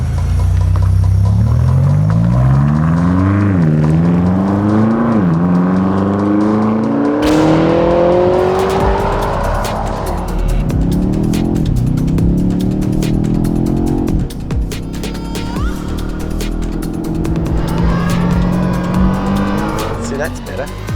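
A BMW car driven hard on a fast lap of a mountain course, its engine loud and close, revving up and dropping through the gears, with tire squeal through corners.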